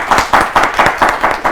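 Students in a classroom clap together in a quick, loud rhythmic burst of about six even beats, close and alone.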